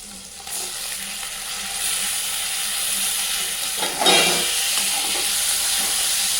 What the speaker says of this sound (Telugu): పచ్చి రొయ్యలు పోపులో వేసుకొని దీనిలో ఉన్న వాటర్ పోయేంత వరకు కొద్దిసేపు ఇలా ఫ్రై చేసుకుంటే మంచి వాసన వస్తుంది.